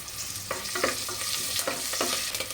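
Green chillies fry in a pan of hot oil, a continuous close sizzle broken by several brisk stirring scrapes at a fairly even pace, with no voices.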